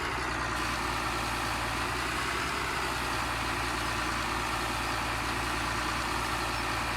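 A tractor's engine in Farming Simulator 17 drones steadily at a low, even idle-like rumble while slowly hauling straw wagons, continuous and fairly loud for the whole stretch with no voices over it.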